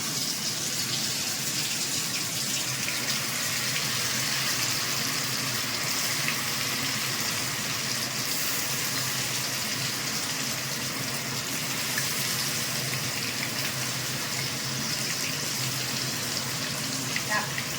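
Chicken pieces for chilli chicken drop into hot oil, giving a steady, loud broadband sizzle and crackle that runs without a break from start to finish and sits close to the listener.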